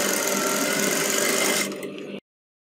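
Sewing machine stitching the Peter Pan collar on a kurti, a steady loud motor whir with needle rattle running continuously before slowing and stopping abruptly near the end.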